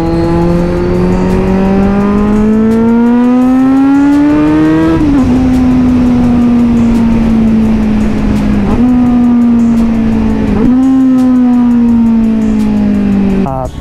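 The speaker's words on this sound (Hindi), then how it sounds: "बाकी ये एग्जॉस्ट तो परफेक्ट स्मूथ है।" A Kawasaki Z900 motorcycle's exhaust drones loudly while riding, engine pitch climbing steadily through the gears with brief dips at each shift, continuous and close, with road and wind noise underneath.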